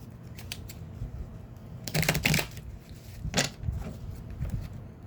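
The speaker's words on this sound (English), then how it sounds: "just shuffling the cards." Oracle cards riffled and shuffled in a few short bursts, crisp papery flutters close by, with quiet handling sounds between.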